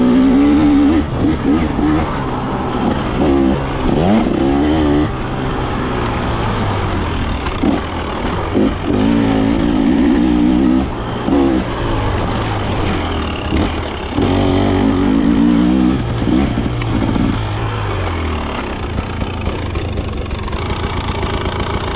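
A 2024 KTM 300 XC-W two-stroke dirt bike engine runs steadily while being ridden, its droning, rising and falling revs continuous and close throughout, with no talk over it.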